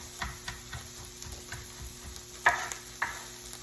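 A knife rough-chops mushrooms on a cutting board for soup, giving quiet, evenly spaced taps with one or two sharper knocks near the end.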